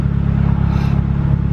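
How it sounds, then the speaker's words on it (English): A Honda D15 engine idles after decapped injectors are fitted, a loud, close, steady rumble with a fast, even low pulse and a faint clattery edge. "It sounds a little off, but it is idling pretty smooth already."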